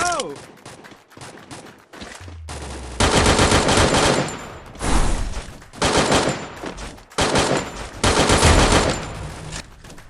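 Gunfire in the video game Free Fire: several loud, close bursts of rapid automatic fire separated by short pauses, with scattered single shots and game sounds between them.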